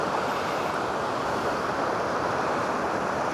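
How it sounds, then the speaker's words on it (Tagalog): A strong river current at Palakol River in Pampanga surges after Typhoon MayMay, making a loud, steady broadband rush of churning water that stays constant throughout. "Lakas ng agos ngayon."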